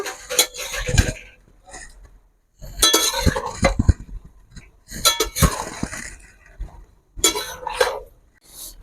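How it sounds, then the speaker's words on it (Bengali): Chicken cooking with sugar in a pan is stirred in bursts of metal scraping and clinking against the pan, with pauses between strokes. "চিনিটা আমি মাংসের মধ্যে দিয়ে দেবো দিয়ে ভালো করে নেড়ে নেব"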